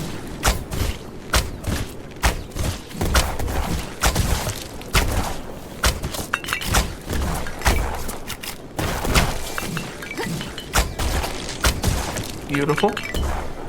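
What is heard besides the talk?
shotgun firing at charging enemies in video game Black Skylands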